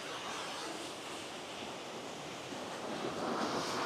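Fast-flowing river rapids near Bukit Telaga on the way to Fraser's Hill, a steady broad rushing roar of water, close and constant, swelling slightly louder toward the end.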